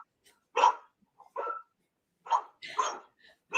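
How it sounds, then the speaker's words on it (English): Dogs at a small mom-and-pop motel bark in short, sharp bursts, several separate barks and yips spaced across the moment with quiet gaps between, fairly close by. "Those are my dogs."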